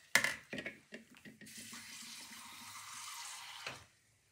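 Water running from a tap to dilute a homemade moringa-leaf pesticide, a steady hiss after a few short knocks, alone and close.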